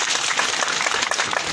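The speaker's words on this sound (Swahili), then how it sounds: "Hebu muwapigie makofi." A crowd at an outdoor political rally in Kisii County applauding members of parliament, a loud dense burst of clapping that carries on without pause and without talk over it.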